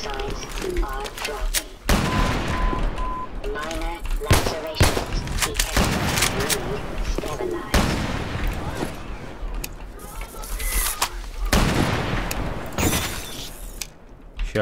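Booming gunfire and shattering impacts from a sniper fight in Half-Life 2: Episode Two, loud, repeated shots spread across the span with crashes and debris between them, a voice talking at times underneath.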